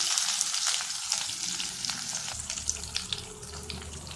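Chopped onion added to hot oil with mustard seeds and chana dal sizzles steadily while cooking turnip poriyal, a close, continuous frying hiss with faint stirring clicks and no talking.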